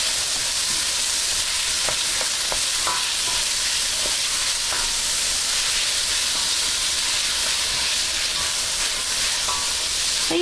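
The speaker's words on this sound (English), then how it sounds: "I'm going to toss my herbs in here right now so that they can get busy, and they'll fry in that oil" Herbs fry in hot oil in a pan for a chicken stroganoff, giving a steady, close hiss with a few faint clicks of a utensil. No one speaks.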